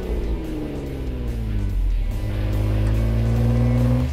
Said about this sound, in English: Go ahead and throw it in neutral and just give you a little throttle blip.